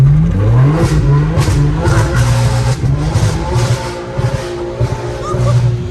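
BMW M4, rear-wheel drive, accelerating hard with the rear tyres spinning, a loud close engine drone holding steady pitch over the full stretch with brief tyre squeal, while people talk over it.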